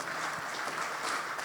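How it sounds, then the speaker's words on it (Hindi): A church congregation claps together during a Hindi-language worship assembly, a brief burst of moderately distant, diffuse applause. "ताली बजा के परमेश्वर को धन्यवाद।"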